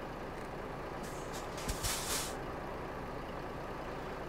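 A Volvo FH 2009 truck in Euro Truck Simulator 2 idles with a steady low engine drone, broken mid-way by a short sharp hiss of air brake release before the rumble settles again.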